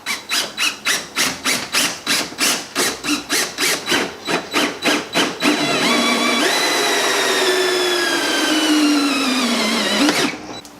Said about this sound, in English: I'm gonna use a hole saw. This is a metal one